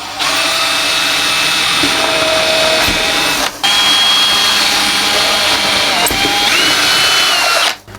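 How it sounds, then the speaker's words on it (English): A power drill whines loudly and continuously, boring a hole through a sleeper on a narrow gauge model railway siding, with one brief stop midway and a wind-down at the end. "I get my drill, pop the hole in."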